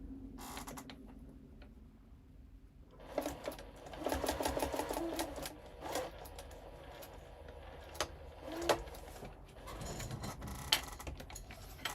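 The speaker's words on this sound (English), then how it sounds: "and I'm going to sew across there." A sewing machine stitches across a strip of blue fabric in several runs of rapid mechanical clatter. Quiet pauses and a few clicks and creaks fall between the bursts.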